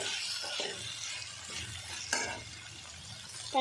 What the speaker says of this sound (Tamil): காலிஃப்ளவர் சேர்த்துனாலே நல்லா இந்த மசாலாவோட வதக்கி விட்டுருவோம்.